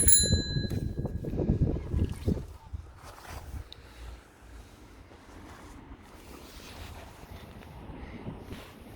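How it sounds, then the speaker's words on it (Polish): A bell on a Sparta Ion electric bicycle gives a couple of quick bright rings near the start, followed by faint handling noise and quiet background. "dzwoneczek."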